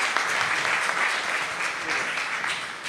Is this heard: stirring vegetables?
no